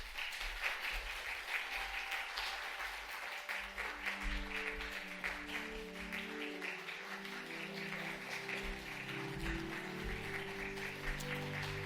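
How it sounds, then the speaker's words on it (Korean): A church congregation claps for the winning men's group during an afternoon worship service, sustained applause across the whole stretch, with a sustained musical tone from an instrument joining partway through. "우리 박수 짝짝짝."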